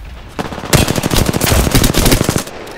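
Rapid automatic bursts from an R-301 rifle in Apex Legends, close and loud, with tightly spaced shots running almost continuously for about two seconds after a brief lead-in.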